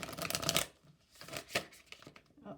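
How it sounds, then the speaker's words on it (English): Tarot cards riffled and shuffled by hand at close range, a dense papery flutter for about half a second followed by softer scattered card slaps and rustles. "Oh, that was a terrible shuffle."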